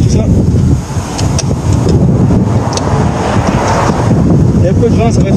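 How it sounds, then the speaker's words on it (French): Strong wind roars and buffets the microphone on a motorcycle ride through the Gorges de la Nesque, a loud, continuous low rumble with a brief lull early on. "Il y a un peu de vent, ça va être un peu dur."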